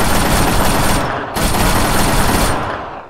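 An LAV's coaxial machine gun fires on infantry in loud, sustained automatic bursts that roar almost without pause, with one brief break partway through.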